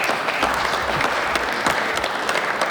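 Applause from the floor of the Montana Senate chamber after a unanimous vote on a property tax relief bill, steady dense clapping lasting throughout at moderate loudness, with no talk over it.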